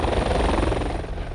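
A rescue helicopter's rotor and engine roar loud and near, a continuous low thudding drone with a slight rhythmic beat, alone without voices.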